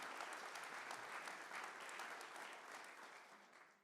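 A university audience at the chancellor's flagship address applauds after the alma mater is sung, a full, steady roll of many hands clapping that gradually thins and fades toward the end.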